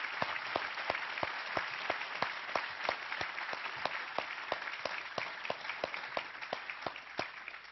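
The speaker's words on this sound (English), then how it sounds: "giving them a round of applause" An audience gives a round of applause for a conference panel, steady clapping from many hands with a few sharper individual claps standing out, continuing evenly for several seconds at a moderate distance.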